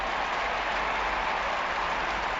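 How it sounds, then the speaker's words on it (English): A large crowd at an Australian football match between Essendon and Fremantle roars and applauds in a dense, continuous wash of cheering that fills the whole stretch without a break. "Just listen to the crowd."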